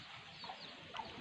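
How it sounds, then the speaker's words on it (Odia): Chicks pecking at scattered rice give a few soft, close clucks and cheeps, with two brief peeps standing out over a quiet yard background. "ଦେখ କୁକୁଡ଼ା ଛୁଆ ଆଇଲେ ଦେଖେ ହଁ ସେଠି ଚାଉଳ ଖାଇଦେଲା"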